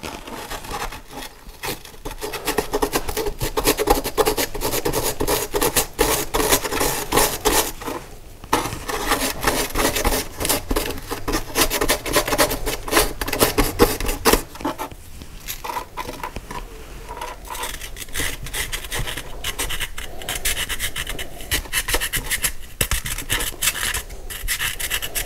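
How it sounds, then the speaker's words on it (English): Scraping and rasping fill a long stretch as a hard dig block is chiseled to free a toy gold bar, with dense gritty rubbing and scratching strokes close up, broken by brief pauses. "I can't break the rest of it, so I'm gonna have to chisel it out."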